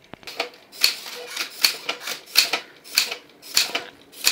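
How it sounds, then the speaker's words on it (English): Motorized typewriter striking keys at a slow, steady pace, about two sharp clacks per second with faint mechanical whirring between strikes, close and clear. "So when I'm going to plug it in, it will start typing."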